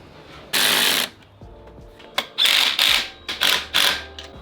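A hand ratchet tightens the lower intercooler hose clamp on a turbocharged car, giving several short, sharp clicking bursts close to the microphone, separated by brief pauses.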